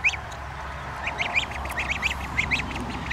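Geese kept in a grassy farm enclosure give a run of short, nasal honks, several calls in an uneven rhythm, fairly close and clear with no talking.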